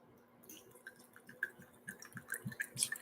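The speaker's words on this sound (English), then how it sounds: "So let's pour it here." 1968 Schenley gin poured into a glass up close, a light trickle with scattered drips and splashes over about three seconds, with no talking.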